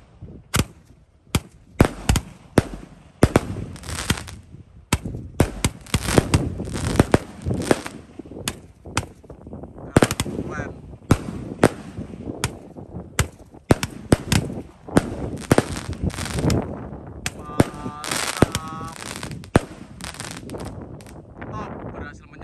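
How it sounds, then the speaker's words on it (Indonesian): An 81-shot Roman candle box firework fires outdoors on a festival night, a rapid run of sharp pops and bangs with crackling bursts and wind noise, loud and close, while people talk over it. "kita nyalakan Mercon Roman candle box Happy Next top 81 shot"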